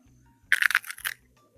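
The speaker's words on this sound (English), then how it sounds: "Maybe you can hear the crunch." Crisp crunching bites into a fresh sweet pepper just harvested from the garden, a short burst of two close, loud crunches in quick succession with no talking.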